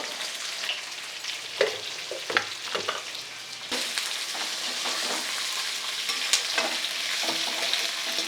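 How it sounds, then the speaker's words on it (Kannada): Ginger and large chopped onions frying in a pan, a steady close sizzle with scattered scraping stirs and light clinks of a spoon against metal, continuous throughout with no talking. "ನೋಡಿ ಇದನ್ನು ಚೆನ್ನಾಗೆ ಫ್ರೈ ಮಾಡ್ಕೋಬೇಕು"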